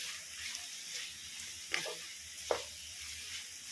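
Chili powder and garam masala stirred into potatoes frying in a pan, a soft steady sizzle with a couple of brief scraping clinks from the spoon.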